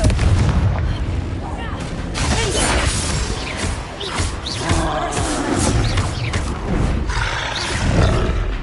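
Confringo blasting spells explode in the Hogwarts Legacy video game during a battle, with loud repeated booms, crackling blasts and clashing effects layered over continuous game noise.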